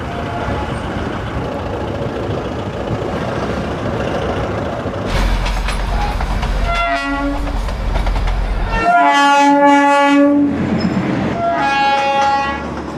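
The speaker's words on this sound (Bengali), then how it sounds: "এই গেটের সামনে দাঁড়ালে এখান থেকে কিন্তু টয় ট্রেনগুলো অনবরত যাওয়া আসা করে" The Darjeeling toy train rumbles past close by, its engine noise building and then giving way to several long, loud horn blasts near the end.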